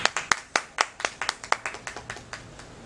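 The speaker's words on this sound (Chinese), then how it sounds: "我们掌声欢迎他。" A small group claps at a welcome for a car dealership's store manager in Taichung, the claps distinct and uneven, fading over about three seconds with no talk.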